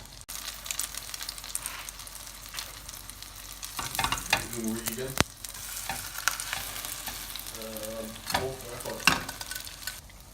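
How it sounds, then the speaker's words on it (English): French toast frying in a pan gives a soft, steady sizzle throughout, with a few light clinks and scraping sounds from a utensil partway through, heard quietly and without speech. "Want to cook them until they're nice and golden brown on either side and nice and pillowy and fluffy"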